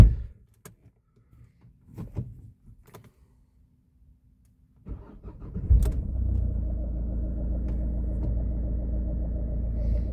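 A 2008 Opel Zafira with a 1.7 CDTI diesel engine: after faint clicks and interior rustling, the engine cranks and starts, then settles into a steady low diesel idle rumble, close and continuous.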